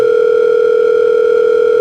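A phone gives off a loud, steady electronic tone, continuous and unbroken, heard alone without voices.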